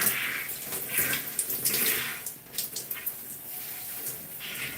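Water runs and splashes in a bath while shampoo is rinsed out of a child's hair, a continuous hissing spray with uneven splashing bursts, close and fairly loud, no talking.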